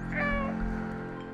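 A cat meows once in the video game Stray, a clear, drawn-out tonal call lasting just over a second, heard alone and up close.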